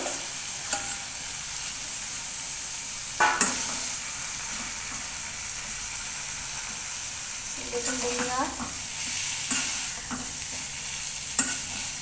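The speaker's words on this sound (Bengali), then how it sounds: "আলু পটল যে কষানো হয়েছিল সেটা মশলার মধ্যে ঢেলে দিলাম পুরো" Potatoes and pointed gourd are tipped into spice masala in a pan and fried with a steady sizzle, with occasional scrapes and clinks of stirring throughout.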